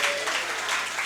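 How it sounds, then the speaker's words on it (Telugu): Congregation at a Christian worship service applauding in praise, a brief, loud, steady burst of many hands clapping together. "చప్పట్లు కొట్టి స్తోత్రం చెప్పు"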